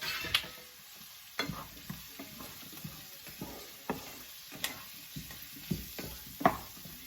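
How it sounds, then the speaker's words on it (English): Zucchini with onions sautés in a pan, a quiet sizzle broken by repeated spatula scrapes and taps at a loose, regular pace, close by and with no talking. "I'm going to saute these a little bit. You know, zucchini cooks really fast"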